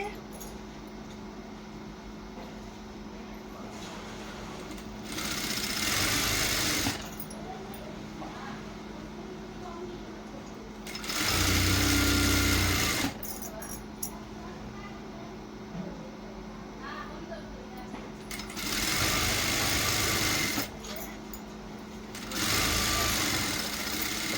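A sewing machine stitches blouse fabric in several short, loud whirring runs separated by pauses, with quieter handling sounds in between.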